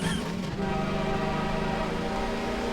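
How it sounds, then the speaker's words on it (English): Video game train rolling past with a steady, loud mechanical drone and tonal hum, continuous and close for a few seconds without a clear horn blast. "trains are coming"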